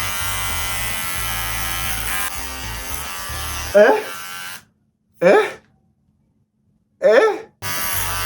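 Electric hair clippers cutting a fade haircut give a sustained close buzz, followed by a few short bursts separated by silences, with a person talking over parts of it.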